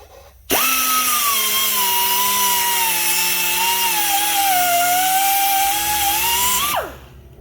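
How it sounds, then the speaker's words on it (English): A power tool cuts through a metal chain during repair work on an engine damaged by a cold air intake, whining loud and close in one continuous, slightly wavering pitch for about six seconds before spinning down. "I'm gonna have to cut that chain"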